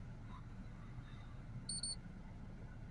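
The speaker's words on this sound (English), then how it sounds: "I can hear it beeping there." Short double electronic beep from a Launch Euro Tab 3 diagnostic scan tool connecting to its VCI on a Volvo, heard faintly over a steady low background hum.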